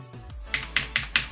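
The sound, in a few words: computer keyboard typing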